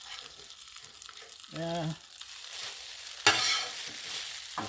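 Bacon fat hisses on a hot Blackstone flat-top griddle as a soft, steady sizzle with a louder crackling burst partway through. A short vocal sound and some brief talk cut in over it.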